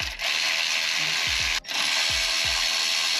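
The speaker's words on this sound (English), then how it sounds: "So at this point we can take all the 10mm off of the oil pan." A hand ratchet spins 10mm bolts out of the oil pan on a first-generation MR2 with a 4AGE engine, a loud, close, continuous buzzing ratchet whir broken by a brief pause and soft low knocks.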